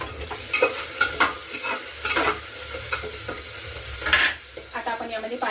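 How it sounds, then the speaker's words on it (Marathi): Vegetable pulao sizzles in a pressure cooker while a spoon scrapes and stirs it in a few close, uneven strokes, with a steady frying hiss beneath and no talking. "याला एक वेळा हलवून घेऊया"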